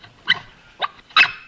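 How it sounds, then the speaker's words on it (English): A dog barks three times in short, separate yelps spaced about half a second apart, moderately near, in an otherwise quiet room. "Sounded like a dog."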